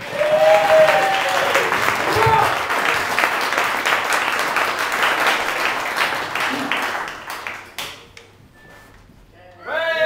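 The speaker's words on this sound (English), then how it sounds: "Can you please give a huge round of applause for Fat Roland, ladies and gentlemen?" Audience applause and cheering for a speaker at a talk on electronic music, loud dense clapping with whoops that fades out partway, then a brief quiet before a voice begins.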